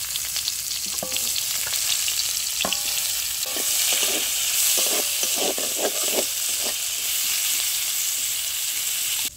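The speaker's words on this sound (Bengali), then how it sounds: "তরকারিটা বসাবো, ফোড়নে দেবো গোটা জিরে, পেঁয়াজ কুচি" Whole cumin seeds and chopped onion temper in hot oil with a constant hissing sizzle, while a spoon makes a run of knocks and scrapes against the pan, close and clear, with no voices.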